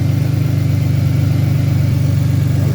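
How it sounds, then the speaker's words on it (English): A 2005 Impala engine idles steadily while warming up during work on a cooling fan wiring fault, giving a continuous low, even rumble up close with no voices. "I'm just gonna let the engine warm up"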